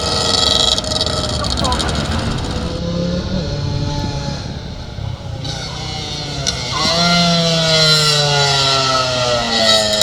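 Rothmans-liveried Honda motorcycle at a hillclimb, its engine loud and close, revving and rising through the gears with steady mechanical roar; a commentator talks over it throughout.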